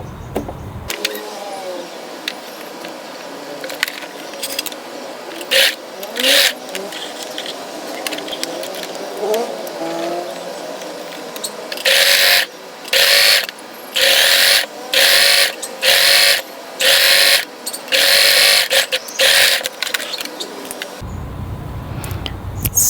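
Sewing machine stitching a folded fabric strap for a tie-front top, its motor whirring in short bursts of varying length separated by brief pauses, close and loud without talk.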